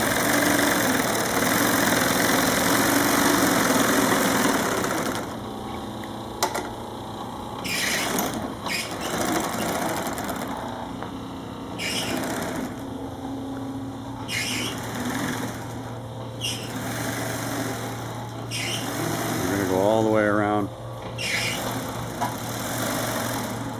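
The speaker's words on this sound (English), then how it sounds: "we're going to sew it up with our tape edge machine" A tape edge machine sews the edge of a mattress cover, a steady loud motor drone running throughout with rhythmic bursts of stitching and a rising whine near the end, with no talking.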